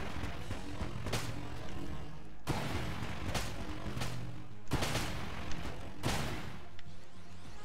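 In Enter the Gungeon, the Raiden Coil fires in several loud bursts of electric gunfire, each a few seconds long and separated by short gaps, with no talk.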